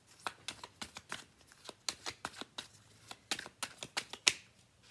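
Tarot cards being shuffled by hand give a quick series of crisp riffles and snaps, close and fairly quiet, with no speech.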